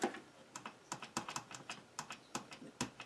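Keys on a Commodore 64 keyboard are pressed one after another in quick, uneven clicks, each tap sharp and near against a quiet background.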